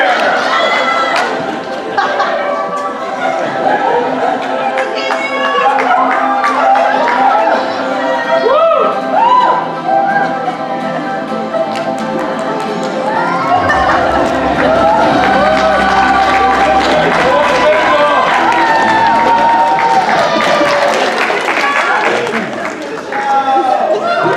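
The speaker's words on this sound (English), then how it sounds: "Please give a round of applause for our new winner!" Large audience at a university Pilipino cultural night pageant, cheering, whooping and applauding continuously for a newly crowned winner, with loud dense clapping and scattered shouts throughout.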